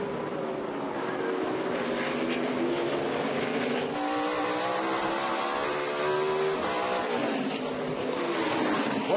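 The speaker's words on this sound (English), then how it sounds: "Marcus Ambrose is leading at Watkins Glen" NASCAR stock cars race around the Watkins Glen road course, their engines a continuous broad roar at a distance that holds steady for the whole stretch, with no one speaking over it.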